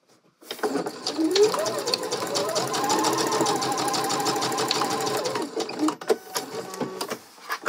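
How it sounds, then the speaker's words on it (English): Sewing machine running a long continuous seam, stitching the bicep section of a garment to the armhole; steady rapid mechanical whirring, close and fairly loud, with a brief pause and restart near the end. "stitch all the way across so that the bistep is now fully connected to the armhole"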